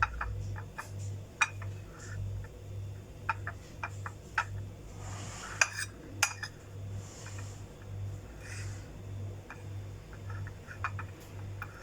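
A spoon works khoya mixed with pistachio and cardamom powder in a pan, making a steady run of light metallic ticks and scrapes under a low constant hum, close and fairly soft.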